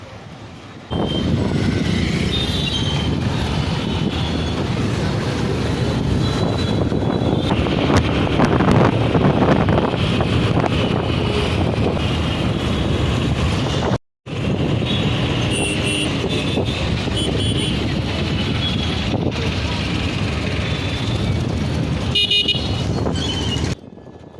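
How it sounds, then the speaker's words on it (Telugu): Steady engine drone with heavy wind rumble, like riding along a road on a motorbike, continuous and loud apart from a brief cut midway. "మనం ఇప్పుడు బైక్ తీసుకొని స్టార్ట్ అయ్యాము గ్రౌండ్కి వెళ్ళడానికి"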